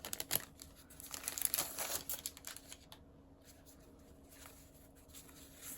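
Small paper bag from a Japanese stab-binding kit rustling and crinkling as it is handled, soft irregular crackles with a few louder crinkles, close and quiet.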